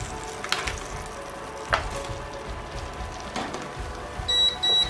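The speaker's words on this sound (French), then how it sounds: "On va cuire nos oignons." Onions fry in a pan with a soft, steady sizzle, broken by a few faint clinks and scrapes, and no one speaks.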